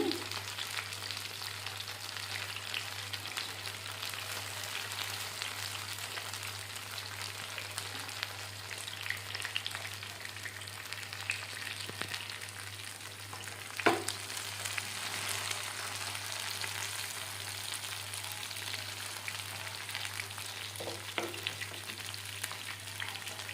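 Fish frying in a pan with only a little oil, Andhra style, gives a steady, close sizzle and crackle that runs the whole time, with a few faint utensil taps and no talking.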